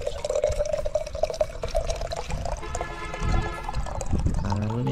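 Water runs steadily from a tap at a temple while hands are washed, a close continuous splashing stream with dripping and shifting flow, no talk.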